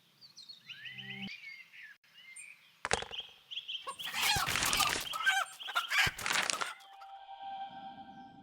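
A chicken clucks and squawks in the Lost Lands 10 adventure game, mixed with chirpy tones, sharp cracks and bursts of noisy game effects, with no talking.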